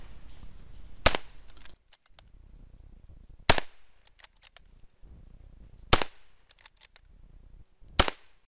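Four sharp, loud rifle shots from a Swedish Mauser at a Winter War commemorative shooting competition, spaced roughly two to two and a half seconds apart, with faint bolt-working clicks and quiet gaps between them.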